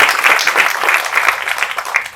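A crowd applauding at a fan event for actor Dhamu, a dense burst of clapping that holds steady and fairly loud throughout, with no speech over it.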